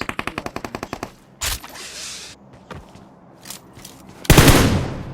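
Video game gunfire: a rapid machine-gun burst of about a dozen evenly spaced shots, then scattered single shots and a loud closing blast, all close and sharp with no voices.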